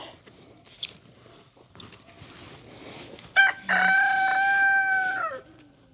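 Scattered clucks and rustling, then a loud rooster crow rings out close by, long and drawn out before trailing off.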